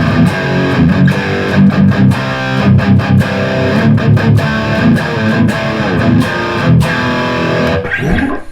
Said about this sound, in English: this is just like straight amp distortion now.